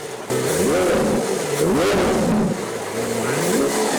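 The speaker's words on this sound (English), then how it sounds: "this Lamborghini Aventador, wrapped with a Power Ranger wrap, which we had to get inside and test out the engine" A Lamborghini Aventador, wrapped in a Power Rangers livery, revs its engine in repeated rising-and-falling pulls, loud and close, with no talk over it.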